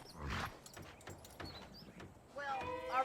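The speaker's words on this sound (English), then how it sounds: "All right, ride your horse to the hitching post." Horse hooves clip-clop in the Red Dead Redemption video game as a rider approaches a hitching post, with soft, irregular steps under game sounds and a bright tonal cue near the end.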